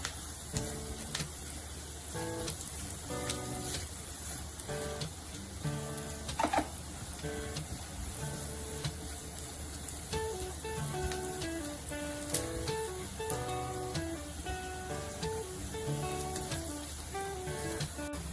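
Chopped onion sizzling in a pan for masoor pulao, a soft, even crackle running throughout beneath louder background music, with no talking.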